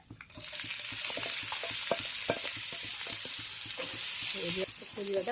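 A sliced onion sizzles in hot oil seasoned with carom seeds, a loud steady crackle with scattered pops and a few scraping stirs, no talking.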